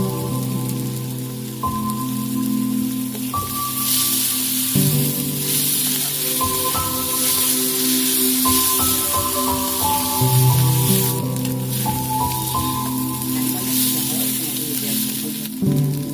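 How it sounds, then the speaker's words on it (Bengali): Ginger garlic paste sizzles in a hot pan, a loud crackling spatter like rain on a surface, with a ringing metallic tone and a few stirring knocks. "এবার কিছু পরিমাণে আদা রসুন বাটা দিয়ে দিতে হবে"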